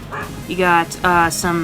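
A dog indoors gives three high, whiny yelping barks in quick succession while a person talks nearby.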